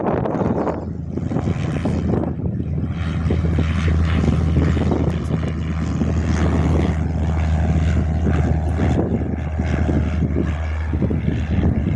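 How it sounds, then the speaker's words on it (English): Cessna 150 propeller airplane departing on a windy day, a loud, steady engine drone with a low propeller hum that holds throughout, wind buffeting over it. "Cessna 150 that's as closest to me is now departing"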